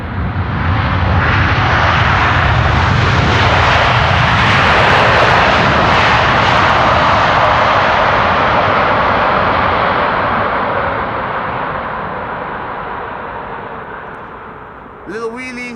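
A jet airliner lands at Amsterdam Schiphol and deploys thrust reversers, giving a loud, sustained broadband roar that builds and then slowly fades as the aircraft decelerates, with a brief thump near the end.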